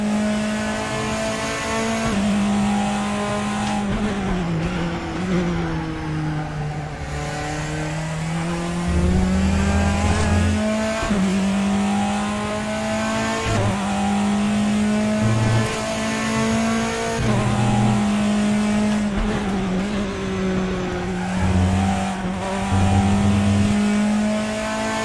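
A Praga R1 race car in the RaceRoom sim at Donington National, its engine screaming loudly and continuously through rising revs and upshifts, dipping briefly off throttle and climbing again, with bursts of tyre or kerb noise beneath.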